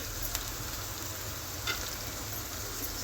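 Cumin and fresh ginger fry in hot oil in a pan for sabudana, giving a steady, close sizzle with a few faint stirring clicks and no voices.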